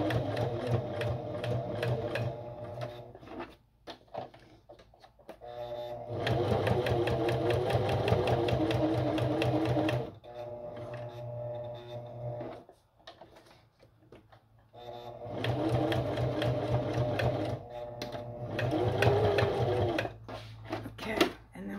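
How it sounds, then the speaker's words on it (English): A sewing machine stitching a paper junk journal tag runs in three long steady whirring bursts, separated by short pauses with faint handling noises, close and clear with no talk. "just going to sew it from the top."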